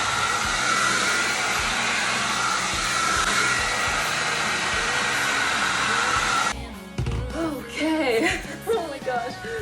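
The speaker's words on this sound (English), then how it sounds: "I just go in with a roller brush and turn the heat up a little bit on my blow dryer." A blow dryer runs with a steady, loud whoosh while drying hair with a roller brush, holding constant for over six seconds before cutting off, followed by a short stretch of nearby talking and laughter.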